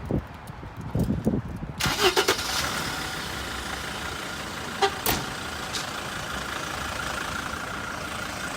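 A car engine cranks and catches after a radiator pipe repair, with a few clunks before it, then settles into a steady, close idle with a couple of sharp clicks.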